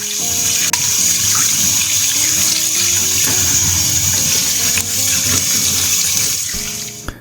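Plums being washed under a running kitchen tap, a steady close hiss of water pouring into a sink for several seconds with faint splashes of fruit in the stream.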